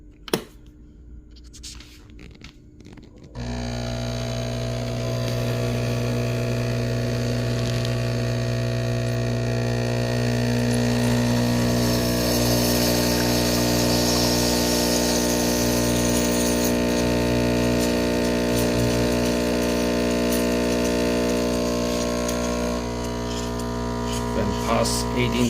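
An espresso machine pump pulling a shot through a pressurized basket starts after a few quiet seconds and then drones loudly and steadily with a buzzing hum for the rest of the time.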